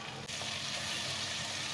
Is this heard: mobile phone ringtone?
no